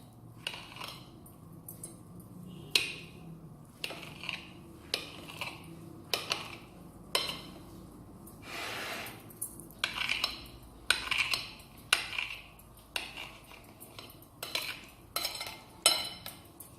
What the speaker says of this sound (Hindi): अब इसको मैं इस तरह कट लगा लूँगी, छुरी की मदद से इनको छोटा छोटा कर लूँगी।